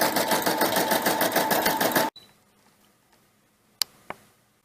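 A Brother SE-400 embroidery machine stitches lettering in a hoop with a fast, rhythmic mechanical chatter that stops abruptly after two seconds, followed by quiet and two sharp clicks.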